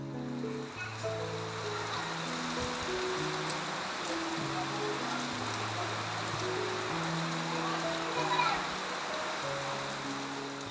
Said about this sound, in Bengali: এদিকে শুরু হয়েছে অবিরাম বৃষ্টি